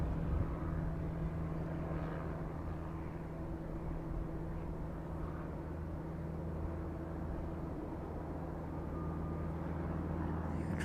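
An airplane departs East Midlands Airport in the evening, a low, distant engine rumble and roar holding steady throughout at a faint level.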